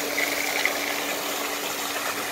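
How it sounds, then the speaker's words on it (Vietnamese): A 1.1 kW single-phase electric water pump with copper-wound motor running steadily, giving a continuous broadband whir and hiss with a faint steady hum, even and unbroken throughout. "Em xin test khoảng 2 phút cho quý vị thấy máy chạy giúp em ạ, không có rung động, khỏe."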